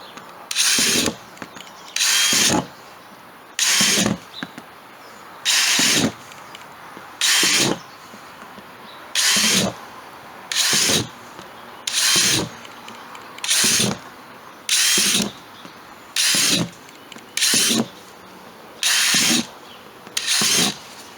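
Repeated bursts of a power drill boring drainage holes into the bottom of a plastic worm bin tote, about a dozen short even whirs spaced roughly every second and a half, close and loud with no talk.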